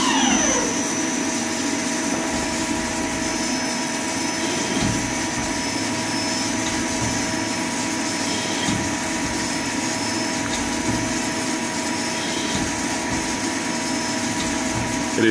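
A CNC lathe cuts a thread in slow passes with reduced infeed, giving a steady mechanical whir with faint tonal hum and occasional soft knocks as the tool moves, continuous and fairly close, with no talking.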